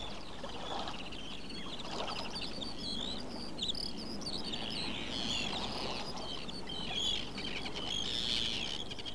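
Seabirds calling over a summer coastline, a dense ongoing chorus of chirps and cries from many birds at a middle distance, steady throughout with low background wash and no voices.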